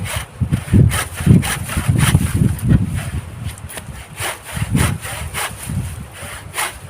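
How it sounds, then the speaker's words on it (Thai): A hand saw rasps through a tree branch in steady back-and-forth strokes, close by, with a brief pause midway before the sawing resumes. "เลื่อยก็ไม่ค่อยคมเท่าไหร่ครับก็จะตัด"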